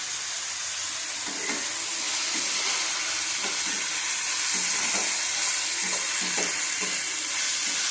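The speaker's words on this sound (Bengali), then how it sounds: "ভালো করে ভেজে নেব।" Bombay duck (lote fish) frying with red chillies in a pan gives a steady, close sizzle throughout, with soft stirring scrapes now and then.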